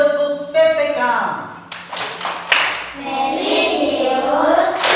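A classroom of students claps out a rhythmic PPK routine, bursts of hand claps falling in patterned groups mixed with chanting voices, close and lively.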